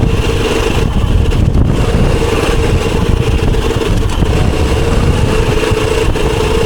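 Motorcycle engine held at low, steady throttle while balancing in a wheelie, a continuous loud mid-pitched drone with slight throttle wavering throughout.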